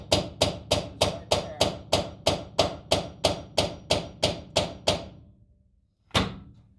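A hammer strikes the crease of sheet metal on a skoolie bus conversion, sounding as about fifteen sharp, evenly spaced metallic whacks with ringing decay, then a pause and one final loud blow.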